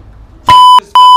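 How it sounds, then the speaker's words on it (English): Two loud electronic censor beeps drop over swearing, a long steady tone and then a second, each cutting off abruptly after brief quiet talk in the background. "Every time you talk, I'ma just censor your whole conversation."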